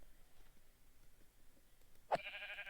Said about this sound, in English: Let's get some sheep.